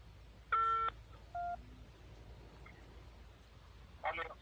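Telephone keypad tones sound before a call: two short dialing beeps early on, then a brief tone burst near the end, over a faint background hum.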